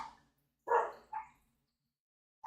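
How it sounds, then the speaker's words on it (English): A dog barks a few times, a couple of sharp woofs close together, then a pause before another bark starts; otherwise quiet. "I can't see what he's barking at"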